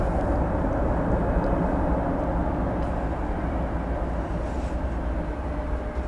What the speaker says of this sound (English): Then there's this 747.